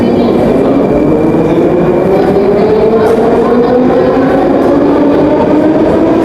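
Metro train running through a deep underground Moscow station, a loud, continuous rumbling roar with a rising whine from the motors, steady throughout with no talk.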